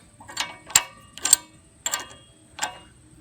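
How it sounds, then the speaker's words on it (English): Metal fork pieces are slid and lifted off a fork frame, giving five sharp clanks and clicks at irregular intervals, close and distinct against quiet. "So I slide the fork to the center, pull the bottom out, and then lift the top off so I can pull the forks off the frame"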